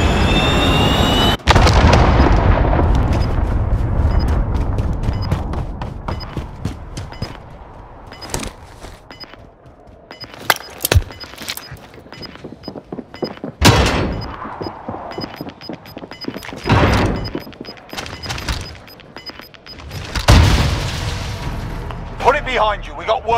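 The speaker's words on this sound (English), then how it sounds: "Allied cruise missile away!" Call of Duty: Modern Warfare match during an allied cruise missile strike, with loud repeated booming explosions and bursts of gunfire spread through the battle, mixed with shouted voices.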